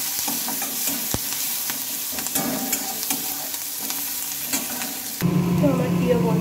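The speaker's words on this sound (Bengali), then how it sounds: "সবগুলোকে আমি তেলের মধ্যে দিয়ে নেব। এবার একটু ভালোভাবে নেড়ে চেড়ে নেব।" Chopped green chilli, garlic and onion fry in hot oil, a steady close sizzle broken by repeated scraping and clattering as they are stirred in the pan.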